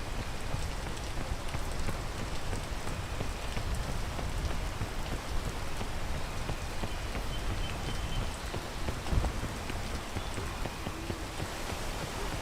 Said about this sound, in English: Alright, as soon as the rain stops, it's go time.